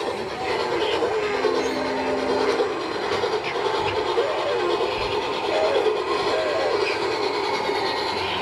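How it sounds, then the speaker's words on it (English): A train runs with a steady, continuous rumble and rattle at moderate loudness, unbroken throughout with no voices. "Now you're running the train"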